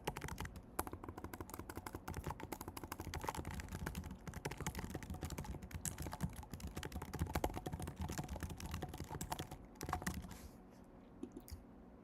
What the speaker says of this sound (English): I mean, I'm typing.